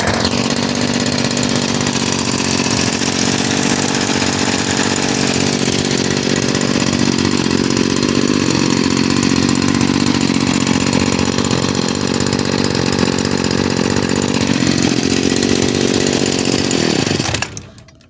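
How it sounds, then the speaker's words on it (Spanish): A Stihl FS56RC brushcutter with a newly tuned engine and a faulty clutch runs loud and steady at high revs, its buzzing drone wavering slightly in pitch before cutting off abruptly at the end. "El motor arranca y prende."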